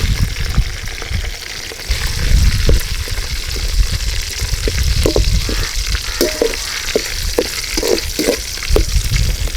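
Chopped green chilies hit hot oil with curry leaves already crackling for a country chicken kulambu, giving a loud, steady sizzle with scattered pops and stirring scrapes.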